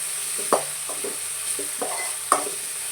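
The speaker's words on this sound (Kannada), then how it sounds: "ಟೊಮೊಟೊ ಸೇರಿಸ್ಕೊಂಡು ಒಂದ್ಸಲ ಈ ರೀತಿ ಚೆನ್ನಾಗಿ ಮಿಕ್ಸ್ ಮಾಡ್ತೀವಿ" Tomatoes with salt being stirred in a frying pan, a spoon clacking and scraping in several uneven strokes over a faint sizzle, close and fairly quiet.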